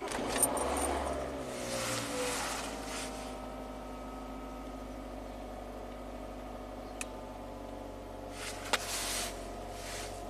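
A Toyota RAV4 that nearly stalls and vibrates at idle starts with a short cranking burst, then settles into a low steady idle hum, with a couple of faint clicks and no talking.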